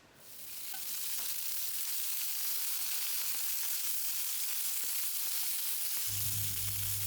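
Chunks of bacon fry with garlic, potato and chilli in a hot pan, a loud, dense, continuous sizzle that swells in the first second and holds steady, with a low hum entering near the end.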